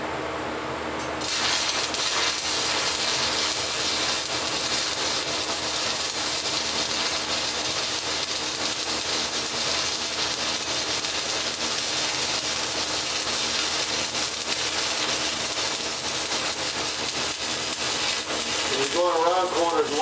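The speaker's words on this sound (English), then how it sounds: "I'm gonna start and walk a single bead of 7018 around that box too" A stick welder runs a single bead of 7018 rod around a metal box, giving a steady, close crackling sizzle that holds without a break, with a short burst of other noise near the end.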